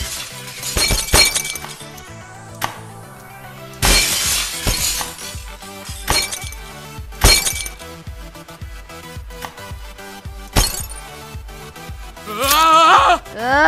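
Video game glass breaking in Happy Wheels, several separate shattering crashes spread out over game music, loud and close, with a short bleating sound near the end.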